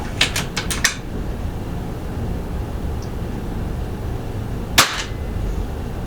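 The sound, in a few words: Brocock XR Sniper air rifle shots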